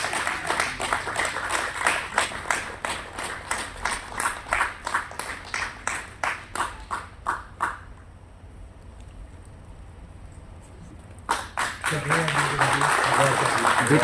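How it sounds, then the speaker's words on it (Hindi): Audience applause at an awards ceremony, with a run of steady loud clapping that breaks off into a quiet gap, then swells again under talk and crowd noise. "मैं चाहूंगा जोरदार तालियां एक बार फिर से।"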